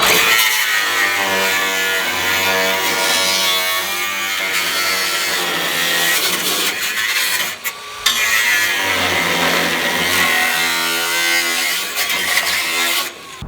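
A cut-off wheel grinds through metal during a vehicle build, giving a loud, continuous, high whining screech close by, with a short break partway through before cutting resumes.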